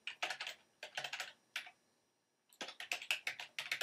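Typing on a computer keyboard, close and clear in quick bursts of clicking keystrokes separated by a pause of about a second, with no talk.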